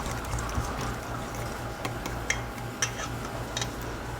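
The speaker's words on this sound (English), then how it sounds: "Whisk this up." An egg is whisked into ricotta cheese with salt and pepper in a bowl, giving a run of quick, light ticking taps at close range with no talking.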